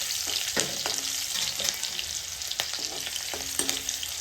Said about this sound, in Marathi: बारीक चिरलेला लसूण असेल किंवा तुम्ही जो ठेचलेला लसूण असेल तो लसूण ह्यामध्ये टाकायचा आणि हिरवी मिरची आहे ती पण ह्यामध्ये टाकायची। व्यवस्थित हलवून घ्यायचं आहे।